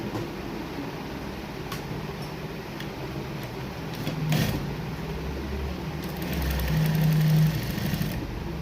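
A sewing machine runs steadily while stitching a border strip onto a suit panel, a continuous mechanical whir with faint knocks, swelling slightly louder in two stretches, no voices.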